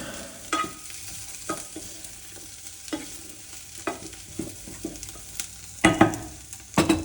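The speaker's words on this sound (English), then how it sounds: "first stir my potatoes so they don't burn" Home fries potatoes frying in a pan, stirred with a utensil: a steady sizzle runs throughout, broken by irregular scraping strokes that grow louder and more frequent toward the end, with no talking.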